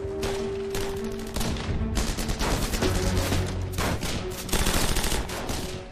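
Sustained gunfire from an Allied attack on a road during the Second World War, dense overlapping bursts and bangs filling the whole span at steady loudness, with no talk over it.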